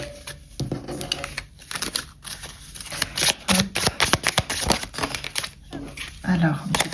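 Tarot cards are shuffled and drawn close by in quick riffling bursts and soft slaps, interleaved with someone talking.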